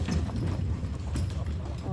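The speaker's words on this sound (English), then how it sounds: "They're 8, 10-year-old Belgian horses." Hooves of 8- and 10-year-old Belgian draft horses clop steadily while pulling a wagon over rocky canyon ground, a close rhythmic clatter with people talking over it.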